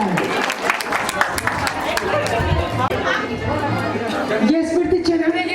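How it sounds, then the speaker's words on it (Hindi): A seated audience at an International Women's Day ceremony claps in scattered, uneven bursts while voices chatter over and between the applause. "जो नीचे बैठे हो तालियां तो बजा दे"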